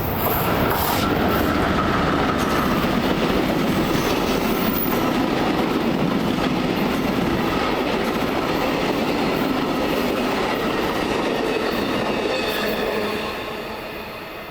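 Amtrak train with Siemens Venture coaches and a California bi-level cab car rolling past along the Carquinez Strait, a steady loud rumble and rattle of wheels on rails that fades slightly at the end.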